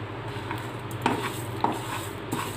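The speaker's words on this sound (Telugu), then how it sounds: "బాగా వేపుకోవాలి పల్లీలు. రెండు స్పూన్ల అవిసె గింజలు వేసానండి." Peanuts and flax seeds dry-roasting in a pan while being stirred, with scraping and a few sharp clinks of a spoon against the metal over a low steady background.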